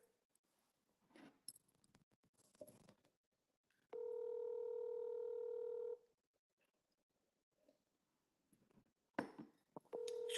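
A steady telephone tone sounds for about two seconds mid-clip as a call is placed, preceded and followed by quiet handling clicks and rustles; no talking.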